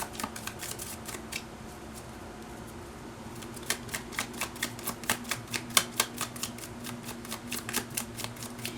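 A deck of tarot cards is shuffled by hand close up, with quiet riffling at first, then a run of crisp, rapid card flicks and slaps over a low steady background hum.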